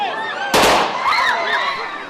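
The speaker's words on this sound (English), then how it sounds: "Gunshots ring out at a Kyiv train station" A single sharp, loud gunshot bursts out amid a noisy crowd at a Kyiv train station, with raised voices and shouting continuing after it.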